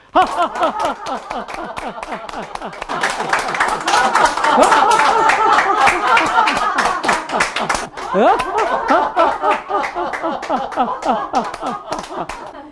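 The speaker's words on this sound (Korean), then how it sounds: "같이 박수 치면서 웃어보겠습니다" A group at a laughter-therapy health seminar claps hands in rhythm while laughing heartily, sharp repeated claps close and loud over a chorus of laughter, with a short dip before the clapping and laughing resume.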